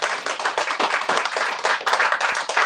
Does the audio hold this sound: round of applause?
yes